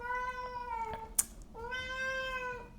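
A little cat gives two long, drawn-out meows close by, separated by a brief sharp click, in a quiet room.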